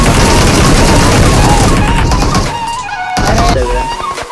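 Gunfire in PUBG Mobile plays as loud, dense rapid shots over game music for about two seconds, then thins out into scattered sharper reports with a brief pause before more shooting.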